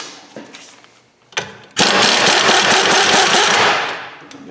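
A loud pneumatic impact wrench rattles in a rapid burst for about two seconds, loosening a bolt on a Hyundai Santa Fe, preceded by a few clanks and faint handling noises.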